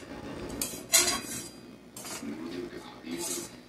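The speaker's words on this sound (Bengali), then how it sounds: "দিয়ে এটা আমি সুজির সঙ্গেই নেড়ে নেবো।" Semolina being stirred with milk in a pan, a few clanking spoon strikes and scrapes against the metal over a soft background hiss, with a voice faintly present.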